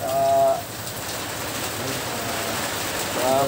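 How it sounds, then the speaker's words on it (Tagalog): Heavy rain pours steadily and loudly on a surface close by, a dense unbroken hiss with brief faint voice-like tones near the start and end. "Grabing ulan. Ay, lakas ang ulan."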